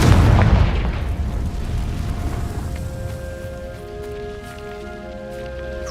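A Confringo fire spell bursts loudly in Hogwarts Legacy, opening with a heavy booming blast whose rumbling, crackling tail fades over several seconds under a faint lingering tonal hum.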